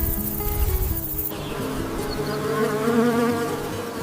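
A honeybee's wings hum in a continuous, tonal buzz that wavers in pitch, heard close and alone with no talk.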